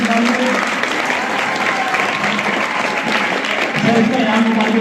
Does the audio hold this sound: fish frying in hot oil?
no